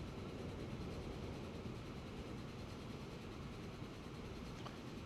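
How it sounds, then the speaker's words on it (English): A freight train in a railway video game rumbles steadily as it approaches, a dense, continuous, loud drone with no distinct horn or talk, holding level throughout. "that train is not far away"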